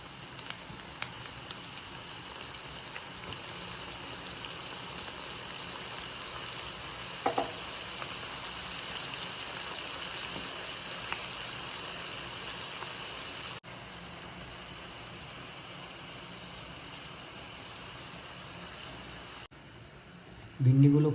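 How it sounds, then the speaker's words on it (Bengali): Okra pieces fry in hot oil over a high gas flame, a steady, dense sizzle that holds evenly throughout, with a brief clatter near the end. "তেলটা এখন গরম হয়ে গেছে, তো ভিন্ডিগুলো আমরা তেলটাতে দিয়ে দেবো, আর গ্যাসের ফ্লেমটাকে হাই রাখতে হবে কুরকুরের জন্য।"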